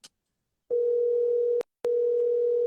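A telephone call going unanswered: a steady electronic ringback tone sounds in two long bursts separated by a short pause, clear and alone with no talking.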